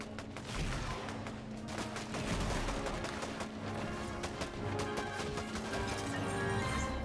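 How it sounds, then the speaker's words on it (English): Gunfire rings out during a Fortnite match, a loud, dense stream of rapid shots and impacts that carries on steadily for several seconds with no voices. "suddenly someone started shooting at us"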